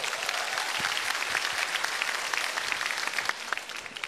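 Sustained applause from a stand-up comedy audience in Indonesia, dense and steady clapping from a crowd with no talk over it, holding at an even level throughout.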